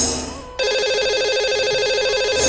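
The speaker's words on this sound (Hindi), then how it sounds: "तो लगाते हैं इन्हें कॉल" An outgoing call on a Hindi radio phone-in show starts ringing: a faint tone fades out, then a loud, steady electronic ring tone begins and holds for about two seconds.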